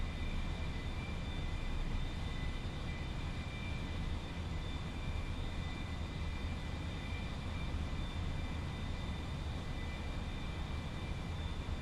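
Light aircraft engine droning steadily inside the cockpit during landing practice, a constant broadband roar with a faint steady whine, no clear change over the stretch and no talk.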